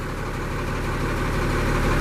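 A 2011 Kenworth T370 truck engine idles steadily, a loud, even low rumble with constant vibration and no talking.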